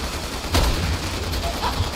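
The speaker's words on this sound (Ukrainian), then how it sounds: "Хто по мені стріляє?" A burst of rapid gunfire in Resident Evil 6 with a sharp louder shot near the middle, over a constant low rumble.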